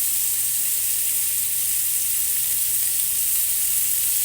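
Salisbury steak burger patties and onion rings fry in a pan with a loud, steady, close sizzle that hisses evenly without a break.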